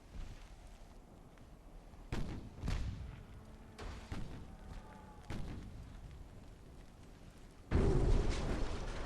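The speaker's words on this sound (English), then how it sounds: "Torpedo hit. Yeah, it's at the stern again now." A torpedo strikes a warship's stern in the Ultimate Admiral: Dreadnoughts naval video game, several heavy thudding booms spaced a second or two apart, ending in a louder sustained rumbling blast.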